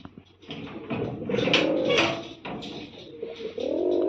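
Domestic pigeons kept at a house coo close by in a few soft, throaty, rolling bursts that rise and fade over several seconds.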